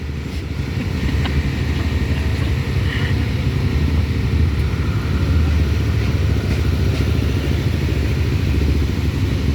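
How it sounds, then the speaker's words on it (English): Race cars lapping Caraway Speedway in a racing video game: a continuous, loud engine roar with steady mechanical clatter throughout and no pauses. "some cars appearing on track from the outside."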